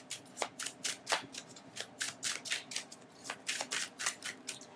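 Tarot-style spirit animal cards being shuffled by hand, a steady run of quick, papery riffling bursts at close range with no talking.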